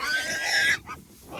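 Pigs close by giving a short, high squealing grunt followed by a softer second call, brief and near.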